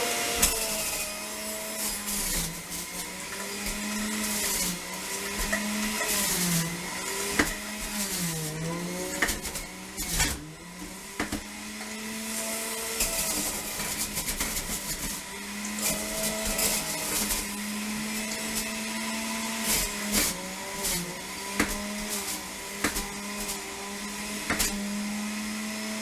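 Electric juicer grinding whole carrots, a loud continuous whirring motor with changing pitch as each carrot is shoved through, steady and close throughout with no talking.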